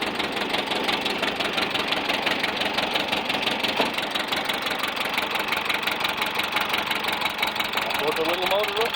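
Small motor inside a toy beaver runs steadily, a buzzing, rapidly ticking mechanical drone that stays even and close throughout, with faint voices briefly underneath near the end.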